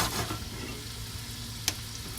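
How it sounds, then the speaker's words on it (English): Rice and vegetables sauté in a hot pan for Spanish rice, giving a steady, close frying sizzle that keeps going throughout, with one sharp clink of a utensil near the end. "all we want to do with the rice is saute it and get it nice and brown"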